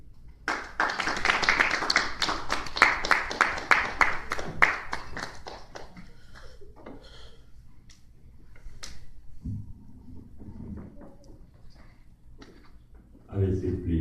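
Applause from a church congregation welcomes a preacher to the microphone, a dense burst of clapping for about five seconds that thins into scattered claps and room noise, with voices and shuffling following.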